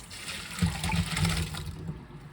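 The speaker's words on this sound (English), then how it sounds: "You just drain it like that." Hot water pours off a pot of boiled sweet potatoes, a steady close splashing stream that runs without a break and with no talk over it.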